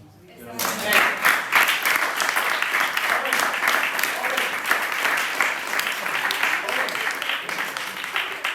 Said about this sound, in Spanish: Yo creo que la respuesta primera tiene que ser un aplauso.